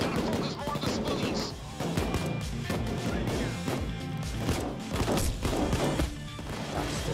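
Repeated gunfire during a Payday 2 jewelry store heist, with dense, rapid shots cracking through the whole stretch, busy and loud, layered over game noise with a voice talking underneath.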